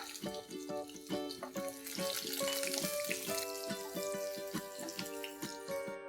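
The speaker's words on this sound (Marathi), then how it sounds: "मी इथे 6 लसणीच्या पाकळ्या ठेचून घेतलेल्या आहेत। ते जरा गुलाबी होईपर्यंत परतून घेऊया।" Six crushed garlic cloves fry in hot oil in a kadai, giving a bright, continuous crackle and sizzle with rhythmic tapping and scraping from a utensil throughout.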